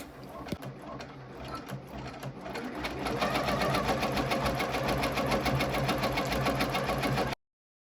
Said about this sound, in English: now we are ready to start stitching out this Christmas tree design, and we'll just click start, and our machine is going to work its magic